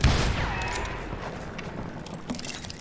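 A gatling gun fires in the video game Call of Juarez Gunslinger, giving a dense, continuous metallic rattle of rapid shots. Sharper bursts come through near the end, with faint game background underneath and no talk.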